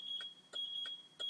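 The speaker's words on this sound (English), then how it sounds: "Left turn signal gives you one beep per flash." A 7-pin trailer wiring tester beeps for the left turn signal, giving four short, evenly spaced electronic beeps about a third of a second apart over a steady high tone, close and clear with no talk.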